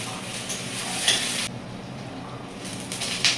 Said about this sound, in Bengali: কড়াইয়ের গরম তেলে পেঁয়াজ কুচি দিয়ে ভালো করে একটু নাড়ে চাড়িয়ে